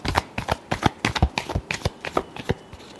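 Tarot cards being shuffled in quick bursts of crisp riffling and slapping, a steady run of close, sharp flicks with no voices.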